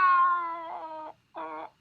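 A man imitates a cat with his voice in the 1970 film L'asino d'oro, giving a long drawn-out meow that bends downward, then a short pause and a second, briefer meow, close and clear.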